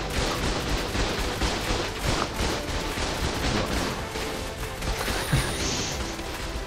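Rocket launcher fire and explosive blasts in the Ark video game, a dense, loud barrage of booming shots and crashes running continuously with no let-up.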